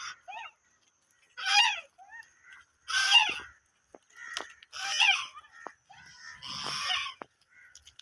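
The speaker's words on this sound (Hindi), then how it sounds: "यहाँ पर डक नज़र आ गई हैं" Ducks in a home garden give several loud, harsh quacking calls in separate bursts, close by, with short pauses between them and no talk.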